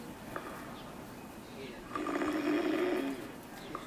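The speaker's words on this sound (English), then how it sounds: "She snores like a bear." A loud snore, the kind compared to a bear's, swells up in the middle of an otherwise quiet stretch, a single rough drawn-out breath lasting about a second before fading.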